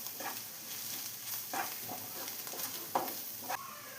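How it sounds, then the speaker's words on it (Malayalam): Ginger garlic paste is sautéed in a pan for chicken keema, with a quiet, steady sizzle and scattered soft scraping strokes of a spoon, a few slightly sharper near the end. "ഇതെല്ലാം കൂടെ നന്നായി ഒന്ന് മിക്സ് ചെയ്തെടുക്കാം. റോസ് സ്മെല്ലെല്ലാം ഒന്ന് മാറി വരുന്നവരെ നന്നായി ഒന്ന് വഴറ്റി കൊടുക്കാം."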